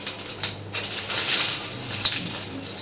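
Crunchy homemade flour chips made only from wheat flour being crushed, a few sharp brittle snaps and crackles with clicky rustling in between, close and fairly loud.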